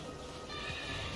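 A horse whinnies in the dark fantasy game Elden Ring, a loud, high, wavering neigh over a dense, noisy game background with faint hoof clopping.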